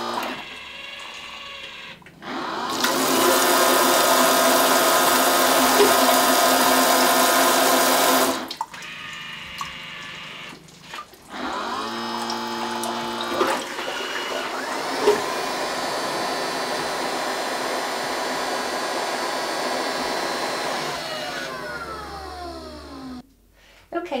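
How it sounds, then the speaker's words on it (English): Geberit AquaClean shower toilet running after a button press on its handheld remote: a loud, steady mechanical whir and spray-like hiss starting abruptly, pausing, then resuming with humming and water rush for most of the span. "I'm using the handheld remote to operate the Geberit AquaClean and I'm just going to press a button"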